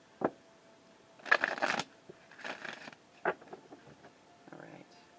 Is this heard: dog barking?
no